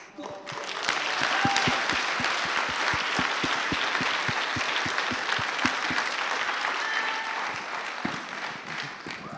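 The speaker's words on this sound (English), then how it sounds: "let's give Chrissy another big round of applause" A church audience applauds singer Chrissy after her performance in a talent show final. Steady, dense clapping runs the whole time with a few whoops, and some voices are heard beneath it.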